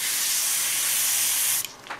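Spray paint hisses steadily and loudly from an aerosol can onto model flags, a continuous close spray lasting about a second and a half before cutting off abruptly.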